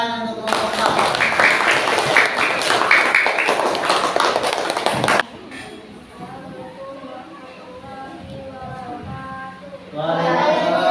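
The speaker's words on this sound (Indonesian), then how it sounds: "tepuk tangan untuk kelompok 4" Loud classroom applause for a student group, a dense burst of many hands clapping for about five seconds that stops suddenly, followed by a person talking.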